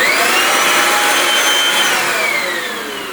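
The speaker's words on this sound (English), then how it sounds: "And now you have a blower." A Kirby Avalir 2 vacuum cleaner running as a blower gives a loud, steady whining roar up close, holding constant before easing slightly at the end.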